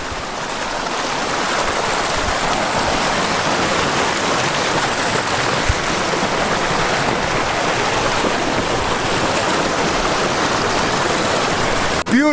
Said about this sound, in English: definitely more water flow than last time we were here